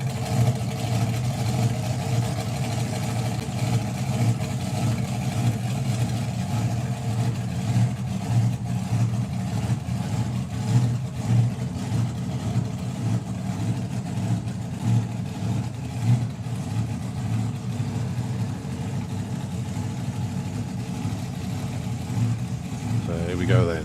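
The Chariots of Fire slingshot dragster at a drag racing event idles and revs in a low, throbbing rumble that stays loud and continuous, with a commentator talking over it.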